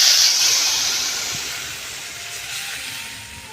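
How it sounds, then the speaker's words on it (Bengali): Water poured into a pan of frying rohu fish curry masala with potato and pointed gourd: a loud, close burst of sizzling hiss and steam that gradually fades to a softer, steady sizzle. "এইবারে আমি পরিমাণ মতো জল দিয়ে দিলাম"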